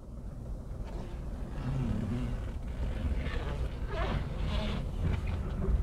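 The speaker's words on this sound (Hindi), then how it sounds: "अभी यहाँ पर और एक यूटर्न मैं लेके आपको दिखाऊंगा।" A car engine hums steadily at low speed as the driver makes a U-turn with the steering at full lock, a continuous moderate drone with faint road noise and no talk.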